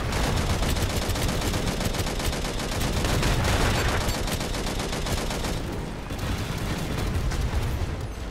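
Sustained machine gun fire in the video game Angels Fall First, a dense, rapid stream of loud, close shots that runs almost unbroken, easing slightly near the end before continuing.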